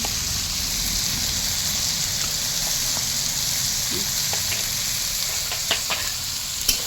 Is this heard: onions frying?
yes